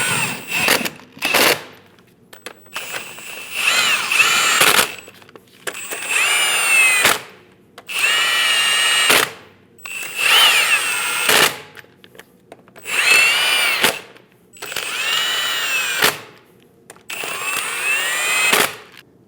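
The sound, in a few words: power tool snugging down lug nuts on Chevrolet Silverado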